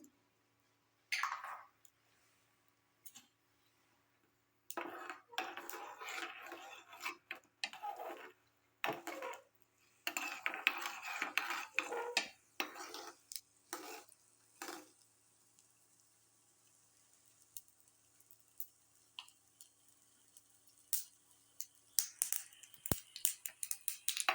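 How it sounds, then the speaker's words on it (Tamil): Mustard seeds pop and splutter in hot oil in irregular bursts of sharp crackles and ticks, close by, with quiet gaps between. "இதில் கொஞ்சம் கடுகு நல்லா வெடிச்சிட்ருக்கு"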